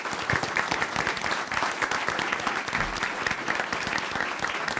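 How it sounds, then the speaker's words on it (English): A school board meeting audience applauds steadily for honorees, dense sustained clapping filling the room for the whole stretch with no break. "Let's give them one more round of applause."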